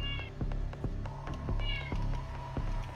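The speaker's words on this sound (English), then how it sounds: "Cat! That's what's going on." Repeated close meows from a cat, several distinct calls over steady low background noise, with no talk over them.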